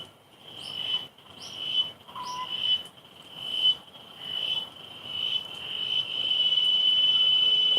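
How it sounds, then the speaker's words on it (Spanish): A steady, high-pitched insect drone, a cicada buzzing in pulsing waves that swell and then hold continuously, fairly close and loud, with no voices. "El ruido es una chicharra, una cigarra."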